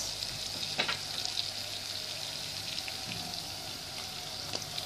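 Chicken liver and gizzards sautéing with softened onions in a pan give a steady, moderate crackling sizzle, with a few brief clicks from stirring.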